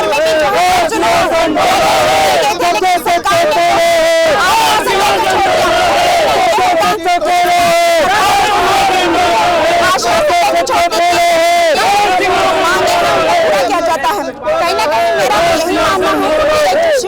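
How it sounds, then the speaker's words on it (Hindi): Thousands of teachers protesting over transfer demands chant in unison, a loud, dense crowd roar with rhythmic shouted slogans rising and falling continuously throughout. "हजारों की भीड़ में शिक्षक जो है एकजुट हुए हैं और प्रदर्शन कर रहे हैं"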